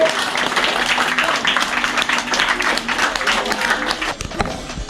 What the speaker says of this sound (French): On vous applaudit pour la participation.